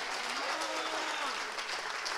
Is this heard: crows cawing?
no